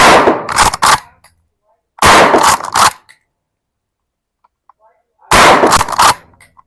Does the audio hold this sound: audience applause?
no